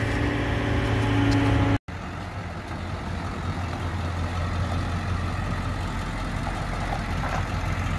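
A 1969 Chevrolet truck engine idles with a steady low rumble that carries through the full span, briefly cut by a gap near the start before the same even drone resumes.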